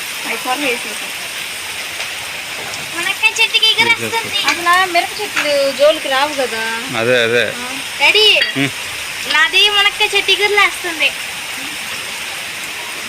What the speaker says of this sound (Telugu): వర్షం పడుతుంది మళ్ళీ చూద్దాం కిటికీ నుంచి